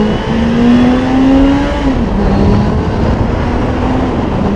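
A Suzuki GSX-F 600 motorcycle engine roars loudly and steadily nearby, its pitch climbing briefly before settling into a sustained rev with no speech.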